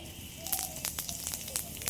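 Cumin seeds hit hot oil for a tempering and give a brief, close sizzle with crisp crackles and pops over a hissy background.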